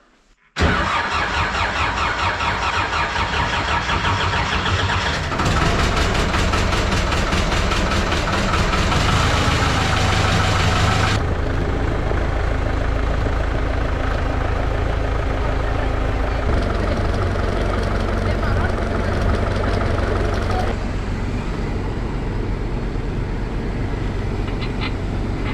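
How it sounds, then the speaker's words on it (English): An old Soviet tractor engine cranks and catches, then settles into a loud, steady idle with a rough, knocking chug that carries on without pause. "Soviet tractor to the rescue"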